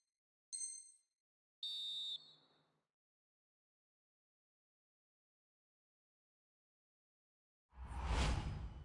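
A referee's final whistle in the EA FC 24 football video game: two short, shrill blasts a second apart, then silence and a sudden loud burst of broad noise near the end.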